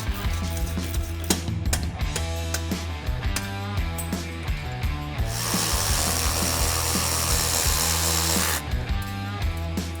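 Hand tools clicking and ratcheting as a steering stabilizer is removed from a vehicle axle, rapid mechanical clicks up close with a stretch of steady whirring in the middle.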